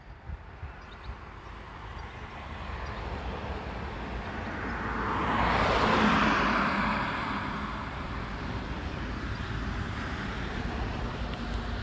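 Traffic on the N290 road between Hulst and Terneuzen: a steady roadside rush of passing cars with one vehicle swelling loud as it goes by near the middle, then fading back into a continuous broad hum.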